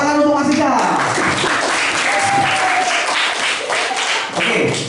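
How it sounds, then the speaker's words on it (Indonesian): Schoolchildren in a classroom break into applause after a classmate's presentation, a dense, loud clatter of many hands clapping that sustains throughout, with a voice heard briefly at the start. "Jangan lupa tepuk tangan untuk Mas Isa."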